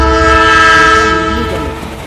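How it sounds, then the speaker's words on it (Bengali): A loud, sustained train whistle blares on a steady tone over the rumble of the train, easing off slightly at the end. "ঠিক তখনই ট্রেনের হুইসেল বাজল"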